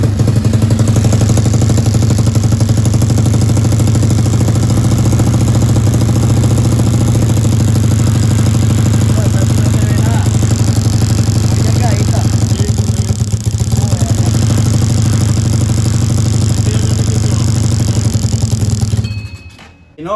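Motorcycle engine running steadily at idle during a high-voltage ignition coil test, a loud continuous low rumble with light mechanical clatter that cuts off abruptly at the end.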